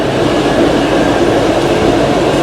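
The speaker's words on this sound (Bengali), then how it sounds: "ট্রেন গোল করে ঘুরছে।" Shimla toy train rolling round a curve on the Himalayan line, a loud steady rumble and rattle of wheels and carriages heard from on board, continuous with no voices.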